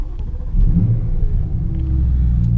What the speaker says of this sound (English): Let me just turn this car on.